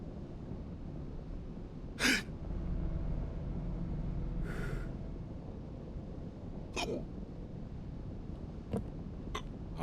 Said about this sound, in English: Hold on, I got the hiccups.